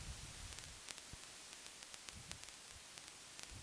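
Synthesized vinyl crackle mixed with very quiet white noise, a faint continuous hiss dotted with sparse small clicks and pops.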